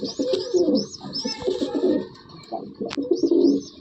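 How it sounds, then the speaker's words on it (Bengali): An aggressive Madrasi pigeon at a loft coos in repeated low, throaty rolls close by, with faint higher chirps from other birds in the background. "খুব অ্যাগ্রেসিভ পায়রা এই তার পাঞ্জা ফেস অফ বিউটি"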